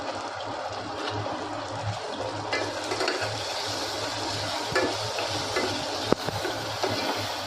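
Masala with salt, chilli, turmeric and garam masala fries and sizzles in a pan for country chicken curry, a continuous close hiss with occasional stirring scrapes.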